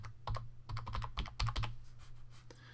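Quick bursts of typing on a computer keyboard, close up, with irregular clusters of light key clicks over a faint steady hum and no voices.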